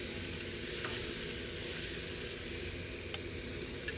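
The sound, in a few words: sausage and onions sizzling in pan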